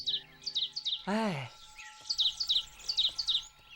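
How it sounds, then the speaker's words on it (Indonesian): Birds chirp in quick repeated bursts of short high tweets, broken midway by a loud sweeping tone, then the chirping resumes. "Kenapa burung ini berkicau begitu gembira hari ini?"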